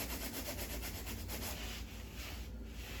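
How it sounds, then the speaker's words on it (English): Continuous rough rubbing of sandpaper over a bump on a wall during paint preparation, a dense, even hiss that is close and steady with rhythmic strokes. "Sand it down a little bit."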